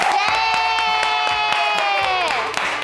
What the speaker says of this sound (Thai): ขอเสียงปรบมือให้กับเจนนิส เจนนิสตา